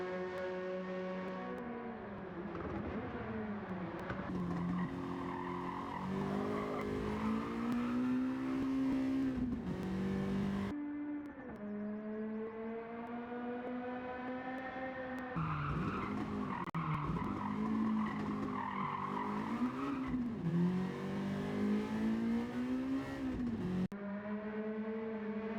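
Honda Civic street car with an all-motor built B16 engine, clutch and sport hard tires, revving hard and shifting through gears in Gran Turismo 7, a loud, continuous high-pitched engine wail rising and dropping with each shift.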